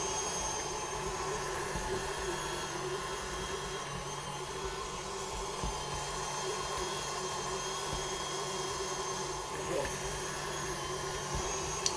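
A stand mixer with a dough hook kneads brioche dough at a higher speed, giving a steady, even motor whir and hum close by, fairly quiet and unbroken throughout.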